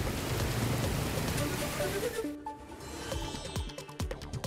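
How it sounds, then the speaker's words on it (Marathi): Heavy rain pours steadily at first over Amravati city, then thins into scattered drips and splashes close by, with no talking. "अमरावती शहरात पावसाची हजेरी"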